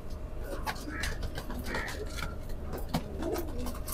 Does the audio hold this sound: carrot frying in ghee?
no